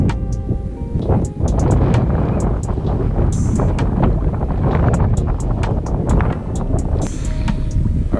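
Heavy wind buffeting the microphone on a back-bay bank while fishing, a loud continuous low rumble with gusts, scattered clicks and knocks over it.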